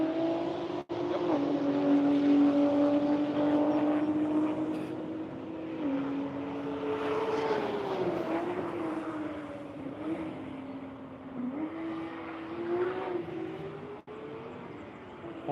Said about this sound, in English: I hear cars on track.